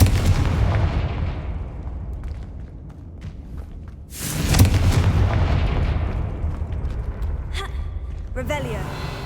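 Confringo fire spell blasts in the Hogwarts Legacy game, repeated booming explosions and crackling bursts, one big hit midway, with a voice speaking over the action.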